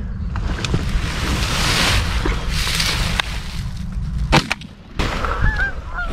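Wild geese honk repeatedly at close range near hunters in the field, with a steady wash of wind or water noise beneath and a few sharp knocks toward the end.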